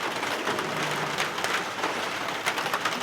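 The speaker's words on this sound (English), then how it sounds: "We finally got a little bit of rain." Steady rain falls overhead, likely drumming on a roof above a kitchen where waffles are being made, a continuous close hiss of drops with no speech.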